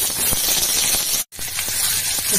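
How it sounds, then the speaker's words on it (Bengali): Beans sizzle in hot oil in a pan, a steady close frying hiss with a brief silent gap partway through. "সিমগুলা ভাজতে দিই।"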